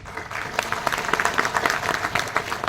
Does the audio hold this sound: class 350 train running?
no